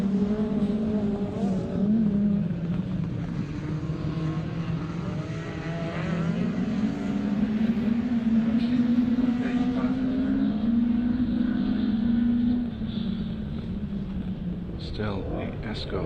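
Ford Escort and Peugeot 205 rallycross cars race in a BTRDA Clubmans Rallycross round, engines droning and rising in pitch from a distance while a commentator talks over them.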